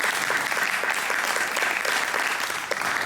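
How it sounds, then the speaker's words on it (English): Sustained audience applause at a panel session of a tech trade fair in Berlin, with steady, dense clapping from a large crowd throughout. "A warm applause."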